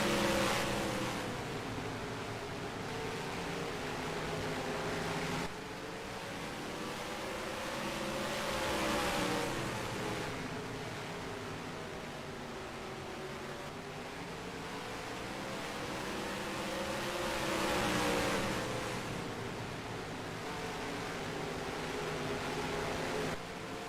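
Several race cars drive laps at CNB Raceway Park in a HOBO Racing Cup12 Series event in a racing video game, their engines droning steadily for the whole stretch, with whines that rise and fall as the cars pass and no talk.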